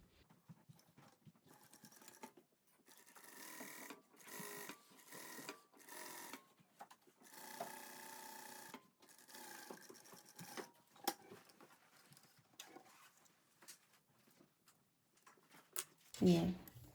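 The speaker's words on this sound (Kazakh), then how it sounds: "Осы жерден қазір түзеу тігіспен тігетін боламын." A sewing machine runs a straight stitch on turban fabric in repeated short bursts with pauses between, a fast rhythmic mechanical patter, followed by brief handling noise at the end.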